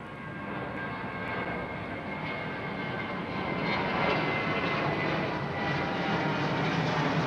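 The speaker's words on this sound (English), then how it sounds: "777 with gear down for about 2 minutes" A Boeing 777 on approach to Heathrow runway 09R with its landing gear down, a continuous broadband jet roar with a thin engine whine that grows gradually louder as it nears.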